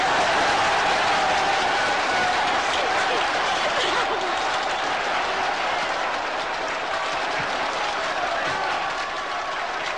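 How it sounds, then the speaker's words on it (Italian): A dense crowd applauds continuously, a loud, even roar of many hands that holds for the whole stretch without pause. "Due minuti di applausi!"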